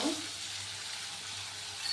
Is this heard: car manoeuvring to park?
no